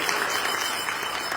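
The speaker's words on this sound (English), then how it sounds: "Give them a lovely round of applause." Audience applause at a bhajan gathering at a Durga Mandir, a steady wash of clapping from a crowd throughout the short moment, moderately loud and without talk.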